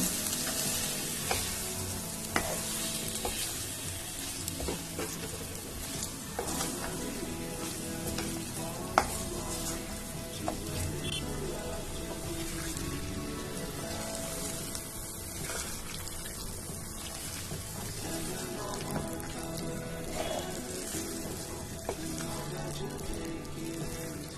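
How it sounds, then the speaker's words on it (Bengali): Chicken pieces fry and sizzle with spices in a little oil for Bengali chicken kosha, a steady close crackle with occasional stirring scrapes and utensil knocks throughout, no voices. "এবার চিকেনটা দিয়ে মশলার সাথে সুন্দরভাবে কষিয়ে নেব।"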